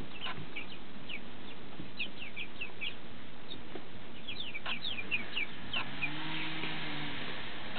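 Five-and-a-half-week-old French Black Copper Marans chicks clucking and cheeping in a coop, with a steady run of short, high chirps and soft clucks from several birds close by, and no talk.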